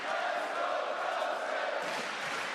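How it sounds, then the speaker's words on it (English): Crowd noise at a Brazilian jiu-jitsu team dual match, a steady broad wash of cheering voices that holds evenly loud for a few seconds and swells slightly near the end. "Wow, crowd really like to see"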